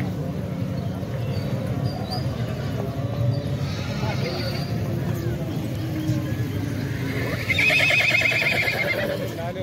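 A mare whinnies near the end amid the bustle of a large horse market in Pakistan, with hoof clops and a steady crowd murmur under close, continuous conversation.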